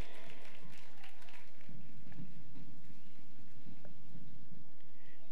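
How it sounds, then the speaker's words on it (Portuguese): Scattered clapping and crowd noise at an outdoor carnival parade, somewhat distant and uneven, applause rising then thinning out. "Vamos aplaudir!"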